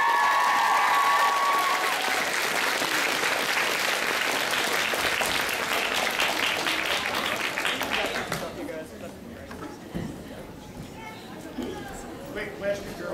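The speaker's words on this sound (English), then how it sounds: "please give them a round of applause." Big audience applause and some cheering welcome voice actors onstage at a Sailor Moon 20th anniversary anime convention panel, loud and sustained, then thinning out near the end as scattered claps and voices remain.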